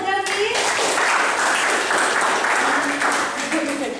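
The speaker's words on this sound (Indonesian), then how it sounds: "tepuk tangan untuk Delvi" An audience at a university lecture presentation breaks into a short burst of steady, broadband applause that fills the whole moment, with a voice briefly audible at the start.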